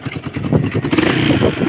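A motorcycle engine with a new spark plug idles close by, a steady low chugging and ticking rumble with a light mechanical clatter and no talk.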